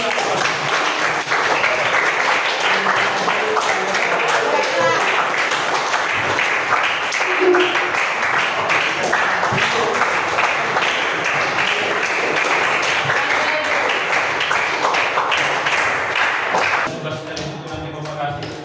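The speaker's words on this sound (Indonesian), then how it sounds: "Kasih tepuk tangan." Classroom applause as students clap for a classmate during a lesson on converting binary numbers, a steady dense patter of hands that runs about seventeen seconds before fading, with some voices mixed in.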